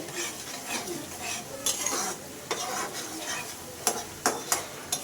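Chopped potatoes stirred with shrimp in a frying pan: soft continuous sizzle with repeated scraping strokes of a spatula or spoon against the pan, a few sharper clinks near the end, fairly quiet and close.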